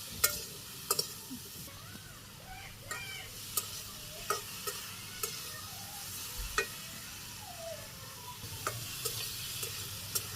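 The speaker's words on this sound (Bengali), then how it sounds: "হলুদের গুঁড়ে দিব পরিমাণ মতো, মরিচের গুঁড়ে পরিমাণ মতো, আর কয়েকটা কাঁচা মরিচ নাড়াচাড়া করে ভালো করে কষিয়ে নিই।" Vegetables with turmeric powder, chili powder and green chilies stir-fry in a pan, making a soft steady sizzle broken by repeated sharp scrapes and taps of a spoon.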